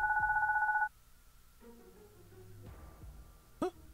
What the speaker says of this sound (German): Ein Babyphone klingelt.